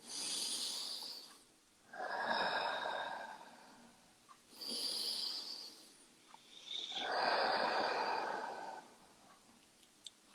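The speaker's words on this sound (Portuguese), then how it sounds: "eu respiro 5 vezes, bem profundamente" Deep, slow breathing during a guided anxiety-relief exercise: two full cycles of long airy inhales and exhales, close and quiet, with no talk.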